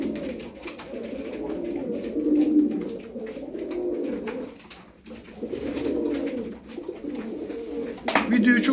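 Crested milk-white tumbler pigeons coo in low, rolling phrases, close and steady, with a short break midway and a rustle of wings near the end.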